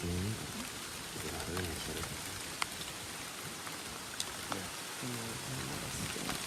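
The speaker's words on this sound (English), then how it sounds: "And here comes the rain." Rain falling outdoors in a steady broadband hiss throughout, with a few sharper drop taps, while people talk intermittently over it.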